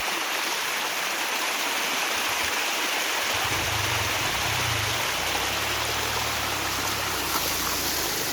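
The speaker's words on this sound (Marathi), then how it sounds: "ते पाणी बघा किती वरून येते." A waterfall pours from high above in a loud, unbroken roar of rushing water, steady and close throughout, with a low rumble joining midway.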